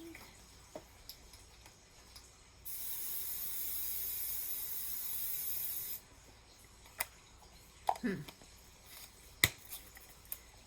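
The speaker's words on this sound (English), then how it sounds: "let me spray this right quick" A steady hissing spray from a spray bottle runs continuously for about three seconds, close by, over a watercolor painting, with scattered clicks and light handling noises before and after.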